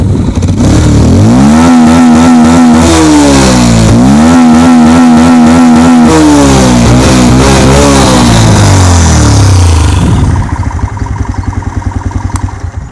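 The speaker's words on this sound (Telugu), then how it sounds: "ఇంజన్ సౌండ్ చూడండి" A Bajaj Pulsar 150 ABS BS6 motorcycle engine revs hard and loud, climbing and falling in repeated throttle blips before dropping back to a lower, steadier idle near the end.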